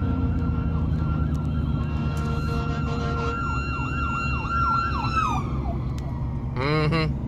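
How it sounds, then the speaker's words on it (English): A fire truck siren wails past in slow then fast rising-and-falling sweeps, loud and close, over the rumble of bumper-to-bumper traffic, ending with a brief horn-like blast. "And that was a fire truck coming."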